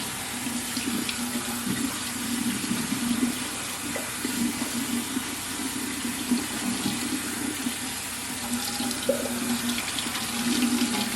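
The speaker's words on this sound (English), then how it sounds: "I'm going to rinse it, and you can see the yellow water coming out the bottom" Tap water runs steadily over nixtamalized dent corn being rinsed in a sink, a continuous close splashing wash with no voices.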